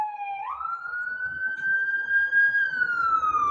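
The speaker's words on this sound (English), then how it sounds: "even the sirens here don't sound the same as they do in New York City." A siren wails from a distance, its tone sliding upward and holding before slowly falling, with faint low rumble beneath.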